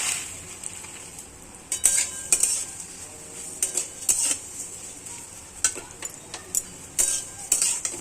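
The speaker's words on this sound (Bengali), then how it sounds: "তো এবার সিমইটা ভেজে নেব।" A spoon clinks and scrapes against a pan as vermicelli (semai) is stirred while it fries in ghee and oil, with repeated sharp metallic taps over a soft, steady sizzle.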